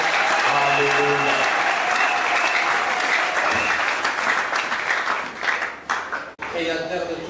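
A church congregation claps and cheers for a pastor walking up during a French-language service, dense sustained applause with voices mixed in, tapering near the end before a brief burst resumes.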